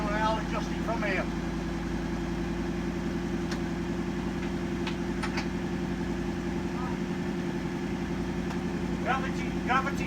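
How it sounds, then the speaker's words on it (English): Marcos Mantula car engine idling on a transporter, a steady low mechanical drone throughout with people talking over it. "start her up and get her off of the transporter."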